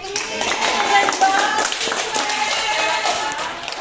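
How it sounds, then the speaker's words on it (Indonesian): A group of people in a group therapy session clap their hands together in a steady, moderately loud burst that lasts the whole span, with a few voices mixed in over the clapping. "Oke, kita beri tepuk tangan dulu."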